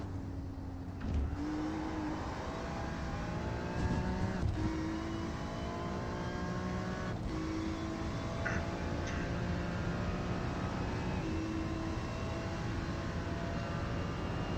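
Race cars, including an LMP prototype, drive in a racing game, with a steady droning engine note that rises and falls through gear shifts as the car accelerates, heard alone at moderate volume.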